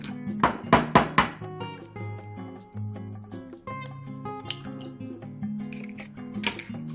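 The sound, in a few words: cracking two eggs into a bowl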